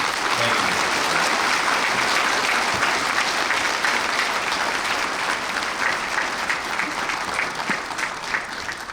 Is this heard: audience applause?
yes